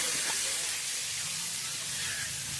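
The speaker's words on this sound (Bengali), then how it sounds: "মাংসের জন্য পেঁয়াজ ভাজা হচ্ছে" Onions fry for a meat curry in a hotel kitchen, giving a constant loud hiss of sizzling oil throughout.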